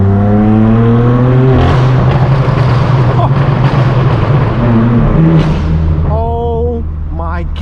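A straight-piped BMW M4 F82 blasts its exhaust at close range, climbing through loud, sustained revs with sharp shifts between pitches, then easing off at the end.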